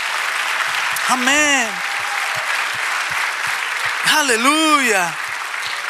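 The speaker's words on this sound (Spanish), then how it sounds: "Si lo creen, den un aplauso, aleluya." Church congregation applause during a sermon, a steady bed of many hands clapping that carries throughout while voices call out loudly over it twice.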